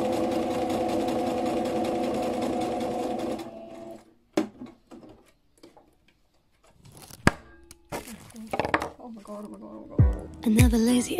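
Sewing machine runs steadily for about four seconds while straps and loops for a fashion collection are stitched, then stops, leaving scattered clicks and handling noises.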